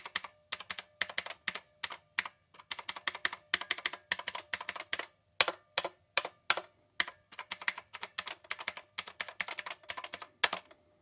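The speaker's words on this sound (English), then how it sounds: "That's exactly what it sounds like with the mechanical blue keys." Rapid clicky keystrokes on a Knewkey Rymek gray typewriter-style mechanical keyboard with blue switches, typed close up in quick irregular bursts with brief pauses between runs.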